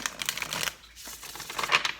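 Tarot cards being shuffled by hand, a close, dry run of rapid riffling clicks and papery flutters in two bursts separated by a brief pause, with no talking.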